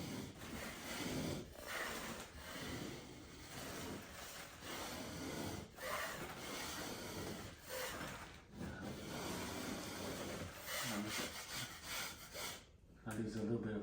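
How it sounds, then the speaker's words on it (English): A small putty knife scrapes popcorn texture off a damp sheetrock ceiling in repeated close, gritty strokes, with soft breathing between them. "it's kind of why I'm using a small putty knife or mud knife or whatever you want to call it."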